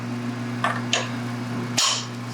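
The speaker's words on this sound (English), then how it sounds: "set it up on the Marshall compactor, and this is the hammer" A Marshall compactor hammer striking an epoxy asphalt aggregate sample in a testing lab, three sharp impacts spaced unevenly over a steady low machine hum, close and fairly loud, no talking.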